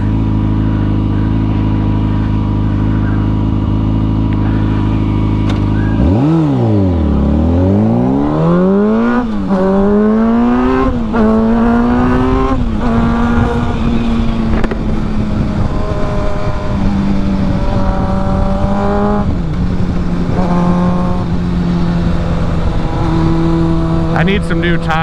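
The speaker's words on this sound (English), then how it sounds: "I can't not ride this bike right now." A motorcycle with badly worn tires revs hard and accelerates through rising and falling gear changes after an idle, its loud engine whine dominating the ride with wind noise over the microphone.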